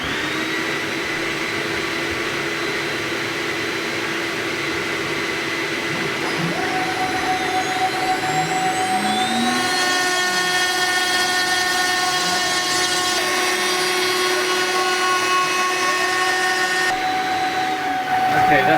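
A CNC router spindle runs with a steady high whine and motor hum while the machine moves across a wasteboard during a surface patch, with shifting tones as it travels, loud and continuous.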